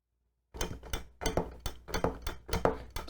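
MOZA HGP sim-racing H-pattern shifter with the silencing inserts fitted, moved through the gears: after a half-second pause, a run of close, firm clunks and clicks, about seven knocks in quick succession, slightly softer and duller than bare mechanical clacks.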